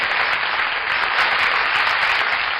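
Sustained applause from a church audience honoring a guest, steady dense clapping throughout with no talk over it.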